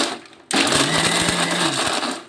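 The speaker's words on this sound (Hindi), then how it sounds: "अब सभी नारियल की चटक को हम मिक्सी जार में डाल देंगे और इन्हें धीरे धीरे पीसेंगे।" An electric mixer grinder crushes small pieces of fresh coconut in its jar, starting abruptly into a loud, close whirring grind with rattling chunks that holds steady for about two seconds before easing off.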